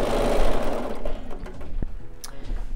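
A sewing machine stitches vertical quilting lines through a collage quilt, giving a steady close mechanical whir that fades a little partway through, with a few small clicks and no voices.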